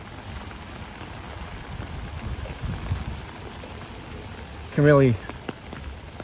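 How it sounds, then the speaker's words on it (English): Steady rain hisses and patters on surfaces along a street in Howard Beach, Queens, New York, soft and even throughout, with a brief spoken word and a short burst of tonal sound near the end. "there's a symphony in all the rain sounds."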